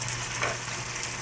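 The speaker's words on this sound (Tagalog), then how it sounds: "Prito muna yung carrot sa patatas" Steady sizzling of carrots and potatoes frying in a hot pan, a constant crackling hiss close by with no voices.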